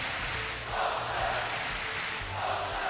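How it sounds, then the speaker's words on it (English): A large esports arena crowd at a CS:GO DreamHack Masters match in Malmö, Sweden, roars in a steady, dense wash of cheering with surging swells, loud and continuous throughout. "never have I ever heard such a loud crowd in Sweden before"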